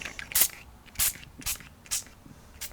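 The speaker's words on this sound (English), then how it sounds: "Okay, and we'll spritz along the bottom." Five short, soft hissing spritzes from a mist sprayer, spaced roughly half a second apart, with no talking.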